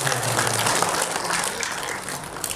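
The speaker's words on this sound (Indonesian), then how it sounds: "Tepuk tangan untuk Densus" Audience applauding at a workshop run by Densus 88, a steady wash of clapping throughout, moderately loud and continuous with no pauses.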